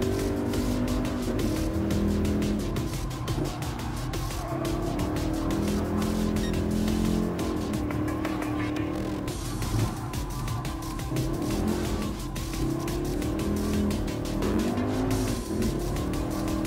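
A race car's engine growls steadily through a lap in the Gran Turismo video game, a continuous, loud drone with shifting pitch and occasional tire noise, no voices over it.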